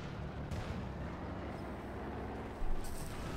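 Strafing fire in Company of Heroes 2 during an OKW versus UKF match, a continuous dense rumble of distant battle noise with a heavier burst of impacts near the end and no talking.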